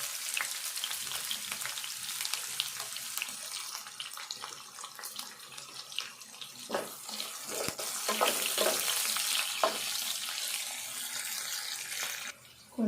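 Onions frying in a pan for chicken bagara rice, a soft continuous sizzle with a few stirring knocks, fairly quiet and swelling louder near the end, no talking.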